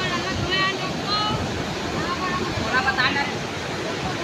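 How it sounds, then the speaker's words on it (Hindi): Waves roll along a river that flows into the Mahanadi, a continuous rushing wash of water with wind buffeting the microphone and faint voices in the background. "देखा कतका सुंदर लहर आते देखा।"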